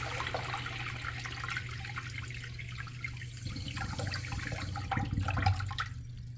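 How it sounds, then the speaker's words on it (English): A 1960s American Standard Washbrook urinal flushing with a steady rush of water, moderately loud and continuous throughout, with no talking. "Let's have a look at a flush."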